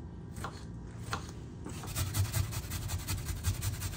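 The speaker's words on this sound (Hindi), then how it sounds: "ये जरा मैं प्याज छोटा छोटा काटता हूँ" An onion is chopped into small pieces with a knife, a run of quick, muffled taps against a cutting board, close and steady under low background noise.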